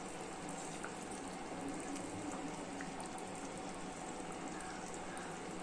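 Anchovy fish curry boils in a covered pot, a continuous close bubbling and hissing that holds steady throughout, with no voices.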